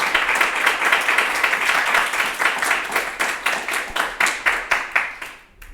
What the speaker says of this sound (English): If we didn't, let's clap for Chris.